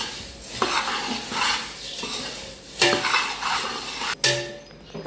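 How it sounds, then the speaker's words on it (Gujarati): Puffed rice (mamra) is stirred in a pan, a close, rustling scrape of dry grains swept around in uneven strokes, with a few sharp knocks of a spoon against the metal rim and no voices. "મમરા નાખાઈ જાય પછી તેને હલાવી નાખવાના"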